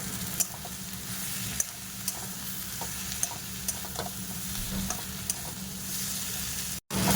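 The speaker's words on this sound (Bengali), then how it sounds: "আমি কলা আর আলু আবার এর মধ্যে দিয়ে দেবো দিয়ে ভালো করে একটু কষিয়ে নেবো" Banana and potato being sautéed in poppy seed paste, giving a steady low sizzle with regular spoon scrapes and taps against the pan, then a brief drop to near silence before the end.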